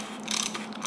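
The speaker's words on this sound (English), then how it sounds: "And I'm going to use a ratchet wrench." Ratchet wrench tightening a sealed cartridge bottom bracket into a vintage bicycle frame, giving a quick burst of faint, close ratcheting clicks under a steady background hiss.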